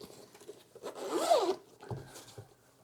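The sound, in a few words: opening double zipper of a case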